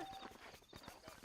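Horse hooves clip-clop in a Western-style open-world video game, a quick run of evenly spaced thuds over about a second, moderately loud and close, with no talk over them.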